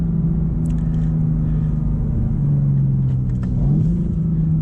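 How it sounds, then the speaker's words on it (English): A BMW M4 CSL accelerates on a road up to the speed limit: a continuous low engine drone and road rumble with a slight rise in pitch near the end, steady and fairly loud, with no talking. "maybe one nice acceleration up to the speed limit"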